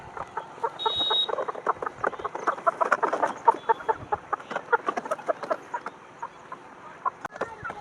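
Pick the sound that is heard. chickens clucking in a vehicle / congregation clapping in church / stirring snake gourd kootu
chickens clucking in a vehicle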